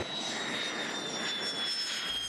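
An F-16V fighter jet landing at a Taiwanese air base gives a steady, distant roar of jet engine noise with a thin high whine running through it, with no talk.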